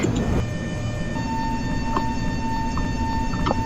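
An Indonesian train's engine hums steadily in a Japanese railway video game, a smooth low drone with a sustained tone and faint chime-like blips near the end, with no voices over it.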